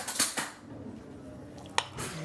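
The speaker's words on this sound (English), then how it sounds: "And get this stirred together really quick." A big spoon stirs turkey goulash in a crock pot, with a few close clinks and scrapes of metal against the pot separated by quieter pauses.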